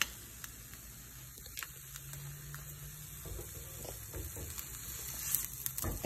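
Eggs frying in a pan on a stovetop, a steady soft sizzle and faint crackle running throughout with a few small clicks and taps, no voices.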